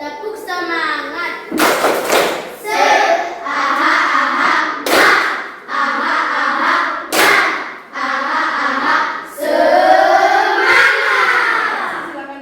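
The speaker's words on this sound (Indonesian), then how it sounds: "Tepuk semangat." A class of students at a Catholic college chants in unison while doing a spirit clapping routine, punctuated by several loud, sharp clap bursts spaced a few seconds apart over the voices.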